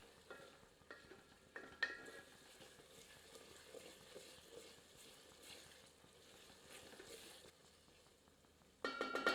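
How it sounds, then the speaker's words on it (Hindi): A ladle stirs goat mince and liver in a pot over a faint, soft sizzle. The stirring comes as quiet scraping strokes, and a louder clatter breaks in right at the end. No voice is heard. "एक बार अच्छे से करछी चलाकर सारी सामग्री को अच्छे से मिला देते हैं।"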